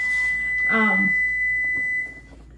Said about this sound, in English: Oh, I didn't make the 5-minute timer.